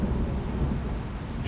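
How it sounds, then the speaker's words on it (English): Steady rain falls straight down inside the ancient Roman rotunda, a continuous dense patter with a low rumble beneath, even and unbroken throughout with no voices. "the rain does not blow sideways, it falls straight down"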